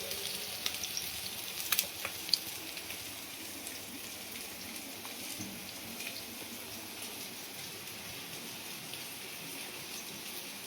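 An egg omelette fries in a pan in a home Bengali kitchen, giving a steady, even sizzle with a few faint clinks early on and no talk.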